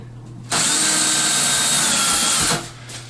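A power drill bores into a bathroom vanity for about two seconds, a loud, steady whine that starts abruptly and then winds down, with no talking.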